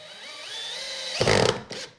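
A power drill drives a 1.5 inch drywall screw into wood, a rising motor whine that ends in a short burst of loud grinding as the screw bites, then a brief second spurt.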